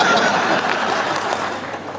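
An audience applauds at a Hindi comedy poetry show, a kavi sammelan: steady, dense clapping from a crowd that fades slightly over two seconds, with a little laughter mixed in.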